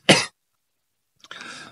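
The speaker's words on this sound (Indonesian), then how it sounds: "Maaf, batuk." A single sharp cough up close, followed after a short pause by a rougher, breathy throat-clearing sound.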